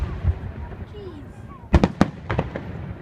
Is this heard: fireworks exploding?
yes